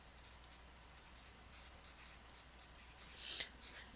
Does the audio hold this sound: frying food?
no